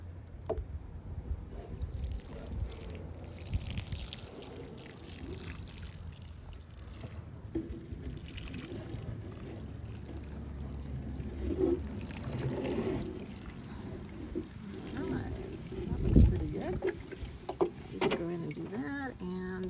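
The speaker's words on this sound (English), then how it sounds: "So let's go ahead and water here." Water pours and trickles onto soil over newly planted garlic in an outdoor garden bed, a steady close splashing wash with a louder gush near the end.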